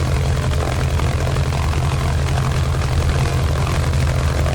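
A Mitsubishi A6M5 Zero's radial engine and propeller held at 1800 RPM during a ground run-up with the wheels chocked, a loud, steady, low droning roar that stays even throughout.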